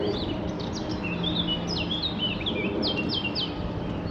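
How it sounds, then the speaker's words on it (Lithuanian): Small birds chirp and sing in short repeated phrases beside the Moselle river, with a steady broadband background of flowing water or distant traffic beneath the calls. "Paukščiai čiulba."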